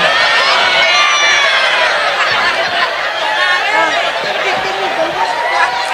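Audience applause and cheering for Enjang at a lively religious study gathering, a dense, steady clatter of clapping filling the whole stretch with crowd chatter and laughter mixed in.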